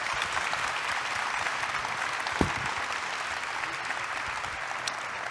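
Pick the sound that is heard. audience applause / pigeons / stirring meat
audience applause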